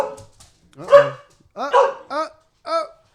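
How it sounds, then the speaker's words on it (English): Dogs barking in a California home, several short, sharp barks spaced out over a few seconds at moderate distance, alone with no talk over them. "We got dogs barking"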